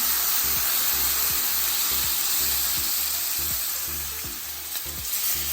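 A salmon fillet sears in a hot pan with lemon juice and butter, giving a loud, steady sizzle with a few soft thuds and scrapes from handling, and no talk.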